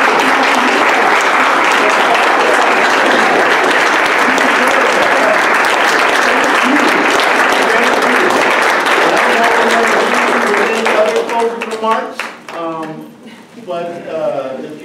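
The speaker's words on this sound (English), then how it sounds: "So please stand and let's give each other a round of applause" A standing audience at a college civil rights event claps in a sustained, loud round of applause that fades after about eleven seconds, when a speaker begins talking.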